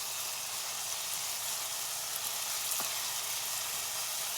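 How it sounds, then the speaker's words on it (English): Western omelette ingredients sauteing in a pan, giving a steady loud close sizzle with a faint stir or two, no talk over it. "saute this up pretty good"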